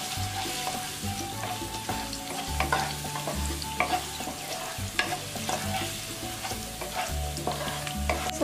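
Spice paste stir-frying in hot oil for Indonesian corn rice, with a steady close sizzle broken by repeated spatula scrapes and clanks against the pan, no voices.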